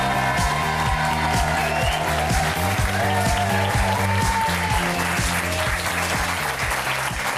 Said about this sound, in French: De chaleureux applaudissements pour Christophe Lambert